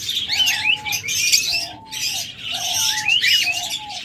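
Pet lovebirds or budgerigars chirp in a cage, a pair giving bright, repeated twittering calls in two bursts separated by a brief pause, close and clear.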